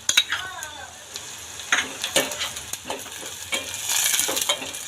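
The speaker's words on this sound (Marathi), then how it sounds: "आता आपण त्यामध्ये टोमॅटो टाकून घेऊया" Onion browning in a pan with tomato added, crackling and sizzling close by while a spoon scrapes and stirs in uneven strokes, and the sizzle grows louder toward the end.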